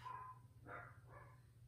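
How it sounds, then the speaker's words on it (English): Dogs barking in the background, a few muffled, distant barks in short bursts beneath a steady low hum, nobody speaking. "I don't know if you can hear them barking in the background"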